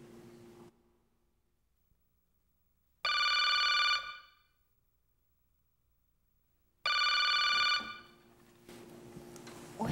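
A telephone rings in two loud electronic bursts about four seconds apart, each lasting roughly a second, over a quiet indoor background with faint low hum between rings.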